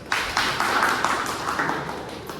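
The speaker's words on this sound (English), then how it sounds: "Can we have a big round of applause?" A small audience at a Toastmasters club meeting claps in a short burst of applause, a modest room-sized patter of hands with irregular slaps, fairly close and without talk.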